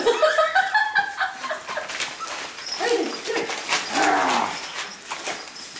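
A dog whimpers and yips in short, high-pitched bursts, fairly close, with some scuffling and background noise throughout.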